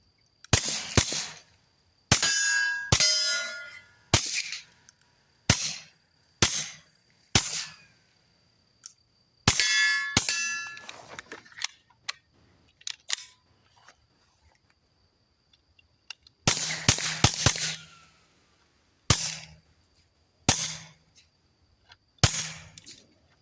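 Kel-Tec P17 pistol shots crack out in irregular bursts toward steel targets set in the dirt, each sharp report followed by a brief ringing decay, with pauses between strings and occasional quick doubles.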